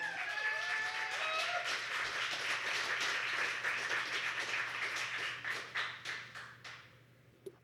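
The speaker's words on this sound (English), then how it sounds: "keep that applause going for your next poet up to the mic." A crowd applauding steadily with dense clapping and a few cheers, the clapping thinning into scattered claps before dying away at the end.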